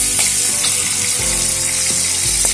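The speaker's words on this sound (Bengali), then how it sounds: "মিনিট 3 মতন কড়াইশুঁটিটা ভেজে নামিয়ে নেব।" A wok of green peas fries with a loud, continuous sizzle, broken by a few sharp scrapes and knocks of a stirring spoon. There is no talking.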